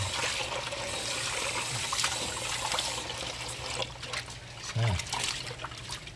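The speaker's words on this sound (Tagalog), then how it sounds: "babanlawan lang natin. Ayan. Makos lang natin sa tubig" Shrimp are rinsed by hand in water for ginataang hipon, giving close trickling and splashing with a couple of soft sloshes, while a voice talks faintly in the background.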